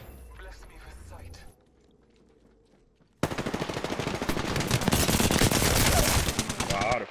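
Rapid automatic gunfire from Apex Legends gameplay bursts in loudly and continuously after a brief lull, following quieter game sounds at the start.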